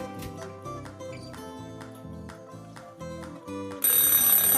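An oven timer alarm sounds, tonal electronic beeps and chimes repeating in a regular pattern, followed by a louder, harsher ringing tone at the end.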